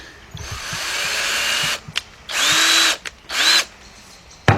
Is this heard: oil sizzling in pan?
no